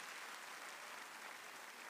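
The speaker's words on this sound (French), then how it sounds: "encore des applaudissements s'il vous plaît pour nos chers panélistes" Applause for panelists at a community panel event, a steady dense wash of clapping filling the whole moment at moderate level with no talk over it.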